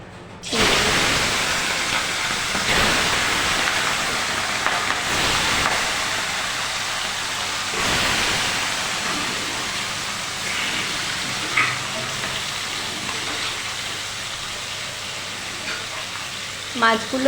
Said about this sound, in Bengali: মাছগুলো লাল করে ভেজে নেওয়া হয়ে গেছে